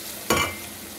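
Ground masala paste poured into a hot pan and stirred, with a sudden burst of sizzling that settles into a softer, steady frying hiss, as for a wedding-style elephant foot yam fry.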